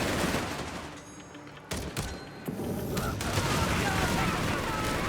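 Troopers firing rifles in Company of Heroes 3, a steady fusillade of overlapping shots and booms in a busy battle, with a commentator talking over it.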